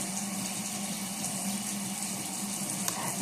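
Water running steadily from a tap while sugar scrub is rinsed off a face, a close, even rushing hiss with no breaks.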